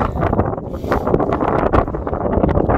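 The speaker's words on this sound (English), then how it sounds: "I hope you can hear us over the wind. It's pretty blowy up here." Strong wind gusts buffet the microphone on a high, exposed stretch of the Lanzarote coast near Puerto Calero's lava fields, roaring loud and continuous with no voices.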